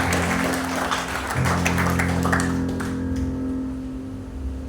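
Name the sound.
applause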